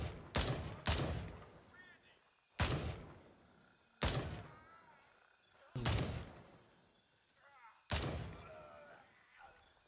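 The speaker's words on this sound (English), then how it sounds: "I heard a gunshot go off" Six loud gunshots in a video game, sharp booming cracks spaced irregularly over several seconds, each trailing off in a short decay, with faint voices between some of them.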